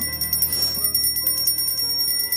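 A bright, ringing bell sound effect chimes repeatedly over steady background game music, with clear high metallic tones throughout and no talking.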